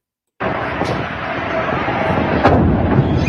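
Explosion video playing: a sudden loud onset into a sustained, roaring broadband rumble with a sharp crack or burst near the end, from a chemical blast in a small town.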